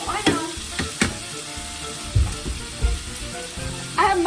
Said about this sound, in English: the sizzling's gonna make the audio all loud